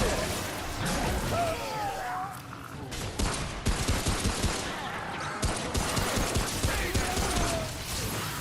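Gunfire in the video game Remnant: From The Ashes rattles as dense, continuous rapid shots and mechanical clatter, loud and close throughout with no pauses.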